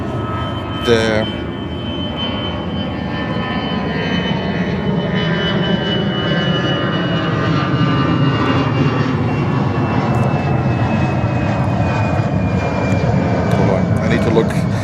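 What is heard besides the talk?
airliner lining up and taking off from runway 13 right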